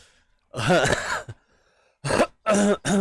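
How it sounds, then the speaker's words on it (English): A man coughs and clears his throat in short bursts while playing a fishing game, a first harsh cough cluster followed after a pause by three quick, close rasping coughs. "it's painful to cough because it jars my back"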